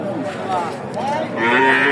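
A young heifer of about eight or nine months moos steadily nearby at a livestock market in a long, wavering low call that rises toward the end, with faint background noise and no clear talk.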